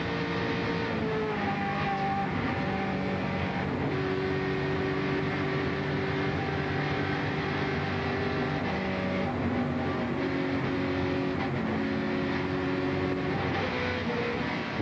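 NASCAR stock cars at the 1996 Pepsi 400 run under caution, their engines droning steadily at a moderate distance with shifting tones as cars pass, no voices.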